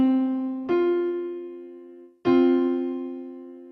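A perfect fourth interval on guitar, two plucked notes struck about a second and a half apart, each ringing clearly and fading slowly, heard alone with no talking.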